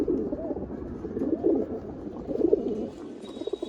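Beji pigeons coo in a soft, continuous low rumble of overlapping murmurs close by, fairly quiet and without talk.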